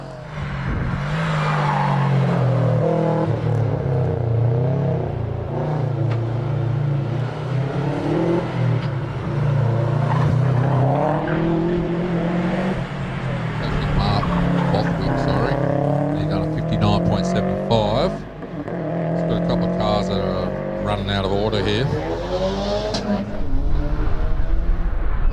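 A Subaru GC8 WRX races up a hillclimb course. Its engine is close and loud, revving up and down through repeated gear changes and rising pitch sweeps, with a voice talking over it.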